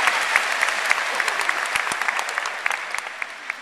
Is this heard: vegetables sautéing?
no